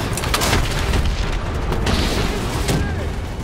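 A missile explodes and destroys an APC in the Black Ops 3 campaign: a heavy rumbling boom within a dense, continuous roar of battle, with gunfire and talk mixed in.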